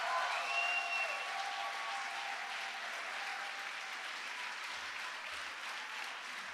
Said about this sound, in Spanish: Dale tu mejor aplauso.